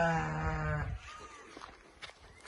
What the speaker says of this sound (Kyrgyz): Мынакей кочкор түсүп турат.